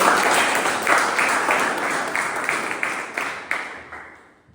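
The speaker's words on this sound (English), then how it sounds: "With a round of applause, welcome to the" A room of people at a Toastmasters club meeting applaud to welcome a speaker to the stage, distinct hand claps close by that gradually fade out toward the end.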